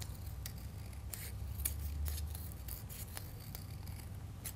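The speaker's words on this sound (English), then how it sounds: "So all I'm going to do is just trim around." Scissors trimming around a piece of paper for a small craft box, a quick series of close, crisp snipping cuts at a soft, steady level with no talk.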